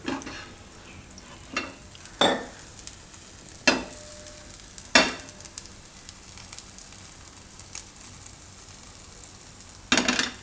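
Corn pudla batter topped with cheese frying in oil on a pan: a steady close sizzle and crackle, broken by a few sharp scraping or tapping bursts spread through, with no talk.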